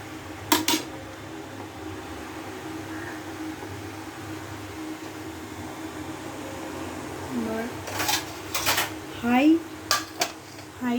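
A metal lid clatters onto a pot of rasgullas boiling over high-to-medium heat, with a few sharp clinks near the start and a cluster of knocks later, over a low steady hiss while a person talks.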